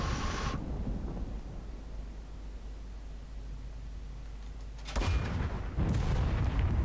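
Artillery fire in a Normandy invasion war game: a hissing blast fades into a low rumbling background, then two more heavy booming shots land close together near the end, with no voices.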